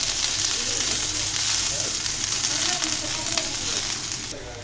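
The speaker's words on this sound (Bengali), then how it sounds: "পেঁয়াজ কুচিটাও দিয়ে আমি একটু ভাজা ভাজা করে নিব।" Chopped onion frying in a pan after garlic has browned in the oil, a steady close sizzle with light crackle that tapers off slightly at the end.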